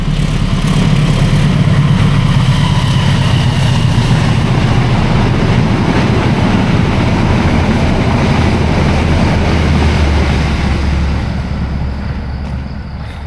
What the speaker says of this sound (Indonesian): kita lihat kereta terlebih dahulu ya